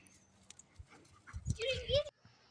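A dog whimpers and whines in a short, high, wavering cry near the end, preceded by soft snuffling and small movement sounds outdoors at a chainsaw carving site, with a person speaking nearby.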